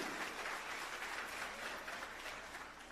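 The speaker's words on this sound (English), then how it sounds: "let's give our parents a round of applause" An audience at a virtual career academy closing celebration applauding standing parents, a steady wash of many hands clapping throughout, moderately distant.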